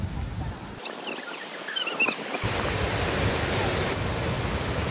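Steady broadband rush of a clear, full mountain stream in Gwanaksan's Sillim valley, swollen after heavy rain, heard close and continuous with a brief quieter stretch near the start.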